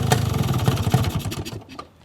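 Yamaha RX-King motorcycle engine idling close by with a modified hollowed-out exhaust, a rough, uneven pulsing throb for about a second and a half before it drops away.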